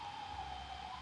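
A siren outdoors, heard from inside as a steady, wavering high tone that stays constant and faint behind a low background hum for the whole second.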